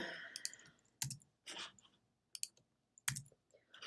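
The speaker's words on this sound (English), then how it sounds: "I'm typing H1s as I'm talking" Quiet keystrokes on a computer keyboard while adding heading tags to a document, sharp scattered clicks in short irregular bursts separated by brief pauses.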